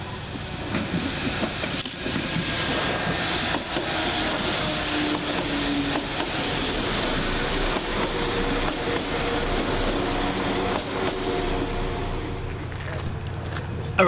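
West Midlands Railway unit 172333 runs through Stourbridge Junction station, a sustained rumbling roar with rhythmic clatter from the rails that holds steady for over ten seconds before easing near the end.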